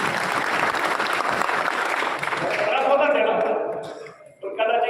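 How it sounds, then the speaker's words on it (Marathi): A crowd at a birthday celebration for a minister claps loudly for a colleague who has recovered from illness, dense applause that fades out near the end before a voice starts speaking. "त्याच्यासाठी टाळ्या"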